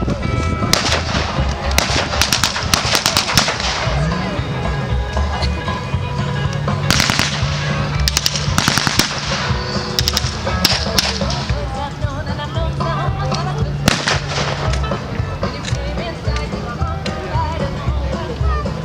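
Gunfire in a battle reenactment firefight, with dense, overlapping cracks and bangs of varying loudness continuing throughout, some sharp and near, others distant.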